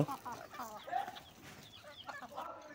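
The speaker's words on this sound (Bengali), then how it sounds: "এই তো মুরগিরা খাবার খাচ্ছে।" Chickens clucking while they feed on rice and paddy grain scattered in a farmyard, a few soft clucks and calls close by with a faint voice in the background.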